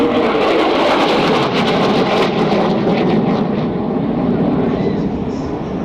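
A Spanish AV-8B Harrier jet at the 2018 Farnborough air show gives a loud, steady, broadband engine roar that fills the whole stretch without pause or fade.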